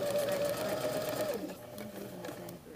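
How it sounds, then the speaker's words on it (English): A sewing machine stitching a label onto the back lining of a jacket, a steady close mechanical whir and needle rattle that slows and stops partway through, leaving quieter room sound. "So now I'm going to sew this so close to the edge."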